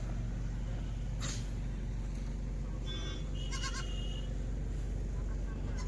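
Kathiawari sheep and lambs in a flock give a few short bleats over a constant low background rumble, with faint talk mixed in.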